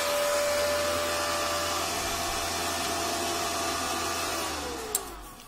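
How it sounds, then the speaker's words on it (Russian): The cooling fan of a Texa ZX-7 250 welding inverter runs with a steady whooshing hum and a faint tonal whine. It winds down near the end, followed by a brief click. "вентилятор заработал."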